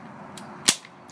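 A single sharp metallic clack rings out close by as the bolt of an airsoft SMG is cycled, a brief snap standing out against a quiet background, with a couple of fainter clicks around it.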